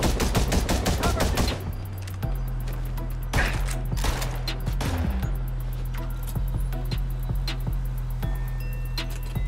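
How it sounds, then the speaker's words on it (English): Gunfire in the mobile game Gangstar New York's PvP arena zone, a rapid burst of close shots at the start, then scattered individual shots over a steady low hum and background music. "I'm being shot by randoms."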